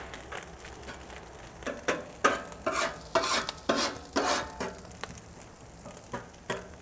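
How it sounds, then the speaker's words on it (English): Sausage browns in a hot pan, loud sizzling broken by repeated scraping and stirring bursts in an irregular rhythm, close and without voices. "Let's throw our sausage down so we can get a little brown on that."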